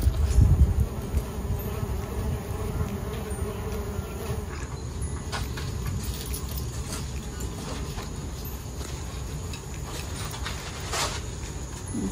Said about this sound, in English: soon enough, the male bees will come